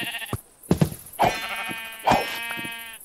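Sheep bleating in Minecraft, several wavering bleats in a row, close and fairly loud, with brief gaps between them.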